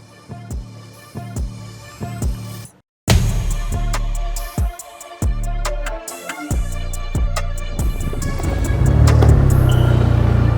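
A Ford Mustang Dark Horse street build runs on a dyno, its engine throbbing loudly and rising in pitch through repeated revs, cutting out briefly before roaring back up to a sustained heavy drone, close and with no talking.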